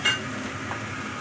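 Utensil scraping and clinking against a pan while shrimp are stirred in a home kitchen in Hong Kong, a brief clank at the start followed by quiet low sizzling and faint stirring.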